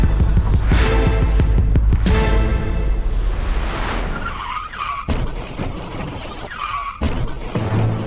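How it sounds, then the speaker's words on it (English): Two cars skid on a busy road, tires screeching loudly for several seconds before a collision, followed by sharp impact noises and scattered debris sounds. "These two cars collide after a small mistake."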